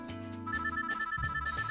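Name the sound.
phone ringing in a video game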